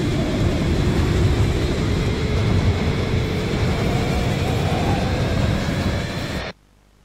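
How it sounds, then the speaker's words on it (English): A moving train in a Poppy Playtime analog horror piece gives a dense, steady low rumble and roar that holds evenly for several seconds before cutting off abruptly into near silence. "Damn, this train is moving, bro."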